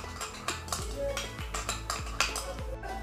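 A spoon stirring papaya cleanser mixed with aloe vera gel in a small bowl gives repeated light metallic clinks and scrapes in quick irregular strokes, close by and moderately quiet.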